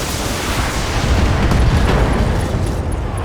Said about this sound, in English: Yep, ammo explosion!